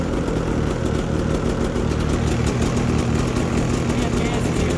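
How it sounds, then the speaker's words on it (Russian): A Rotax 800R E-tec two-stroke snowmobile engine idles with a steady, buzzing, slightly uneven rumble, close and continuous throughout. "И это нормальный холостой ход для двухтактного мотора."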